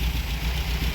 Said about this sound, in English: You guys can see the car is running.